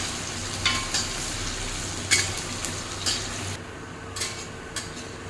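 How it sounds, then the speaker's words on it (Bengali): Chopped onions sizzle in a large kadai with mustard oil and chillies, a constant frying hiss broken by repeated sharp scrapes and clinks of a spatula stirring against the metal pan. "পেঁয়াজটাকেও ভাজতে থাকবো।"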